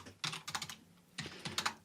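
Quiet tapping on a computer keyboard while writing code: two short bursts of quick, light keystrokes separated by a brief pause, with no voice.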